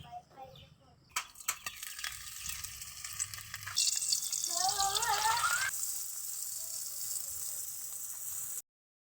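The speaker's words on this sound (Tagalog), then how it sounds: "Prituhin lang muna natin tong tuyo natin." Dried fish (tuyo) fries in hot cooking oil with a bright, close hiss and crackle, after some clattering at the start. Faint warbling tones are audible over the sizzle for a few seconds.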